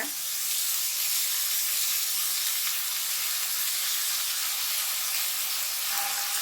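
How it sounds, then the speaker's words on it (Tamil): Ridge gourd sautéing in a pan with salt for chutney gives a steady, even sizzle and hiss that runs throughout, close and continuous, with no talking. "நல்லா வதங்கட்டும்"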